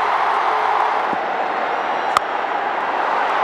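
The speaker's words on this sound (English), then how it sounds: "Listen to the crowd" A packed IPL 2024 cricket stadium crowd in the Mumbai versus Gujarat match roars in a loud, continuous wash of cheering, with one sharp knock near the end.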